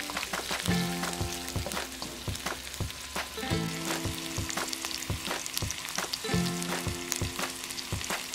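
Ginger and pepper fry in hot oil in a wok, making a steady, close sizzle with occasional stirring scrapes throughout and no voices.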